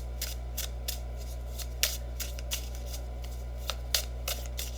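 Tarot cards being shuffled and pulled, giving a string of crisp, close card flicks and snaps at irregular intervals over a steady low background hum.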